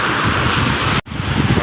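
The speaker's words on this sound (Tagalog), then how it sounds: "Lakas ng agos. Parang baha to, baha." Strong river current surging like a flood, a loud dense rushing roar of water with wind buffeting the microphone, broken by a split-second cut.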